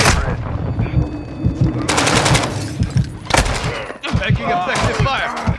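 Rapid automatic gunfire in Call of Duty Warzone DMZ, loud close bursts and sustained volleys with heavy rhythmic thumps underneath, over continuous battlefield noise.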